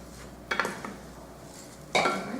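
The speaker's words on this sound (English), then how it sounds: "Alright, so we'll saute that rice." Rice sautéing in coconut oil in a pan, with two quick scrapes and clinks of a utensil against the pan over a faint sizzle, close and quiet.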